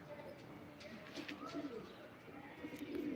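Pigeons cooing at a live pigeon auction, soft, murmuring coos repeating under a faint background hum, fairly close but quiet.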